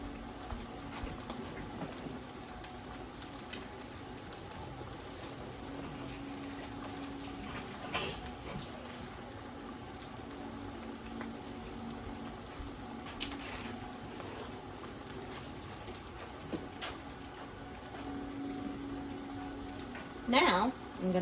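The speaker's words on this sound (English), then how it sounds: "So I'm going to go wash my hands again because I handled the egg container." Water runs steadily from a tap while hands are washed beneath it, a soft continuous splashing patter with a few louder knocks and a brief clatter near the end, and a voice speaking at times.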